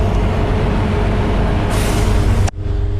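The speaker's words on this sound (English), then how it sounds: "The train just stopped at one of the platforms." An express train from Chiang Mai to Bangkok comes to a stop at a station platform in Thailand, a steady, loud rumble with a hissing air-brake release near the end before the noise drops sharply.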